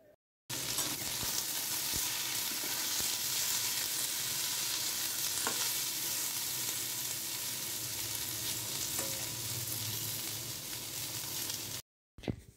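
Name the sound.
beans, eggplant, potato and carrot sautéing in oil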